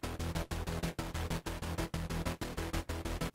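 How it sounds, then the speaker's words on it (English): Two synthesizers playing together without guitar distortion, a quiet, clipped, pulsing pattern of short repeated notes in a driving triplet-like rhythm with brief gaps between bursts. "If we take away the guitar distortion,"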